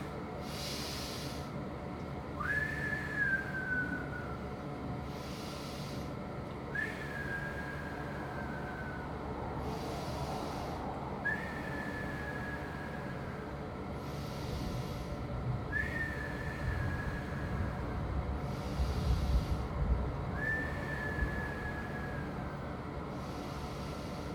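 Five loud, evenly spaced breaths, each ending in a rising, high whistling tone, repeat at a slow, steady pace over a constant background hiss.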